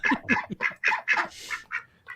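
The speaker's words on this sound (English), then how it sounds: "That's the Ducks." Ducks quacking close by, a quick run of about eight nasal calls in an uneven rhythm, loud and clear with no talk over them.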